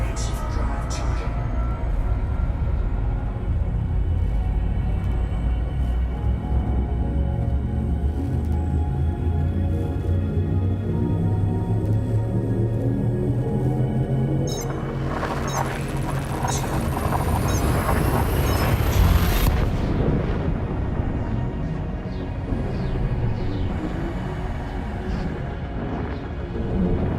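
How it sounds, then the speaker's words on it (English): A spacecraft's frameshift drive in the video game Elite: Dangerous hums low and steady, then charges with a rising whine that swells into a loud roaring surge before cutting back to the drone, with a voice talking over it. "Frameshift drive charging."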